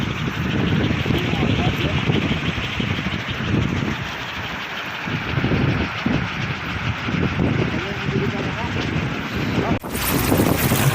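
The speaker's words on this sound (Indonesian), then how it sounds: "Angin kembali bertiup sangat kencang, terlihat bambu maju mundur saking kerasnya angin meniup kolecer" Strong wind gusting on a hillside around a bamboo kolecer windmill, a loud continuous roaring rush with buffeting, a brief drop near the end before the blowing resumes.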